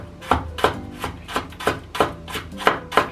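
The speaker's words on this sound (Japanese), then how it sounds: "まず長ネギは薄切りにしていきます" A knife slices Japanese leek (naga negi) thinly on a cutting board, giving nine evenly spaced, crisp chopping strokes at a steady rhythm, close and clear with no talking.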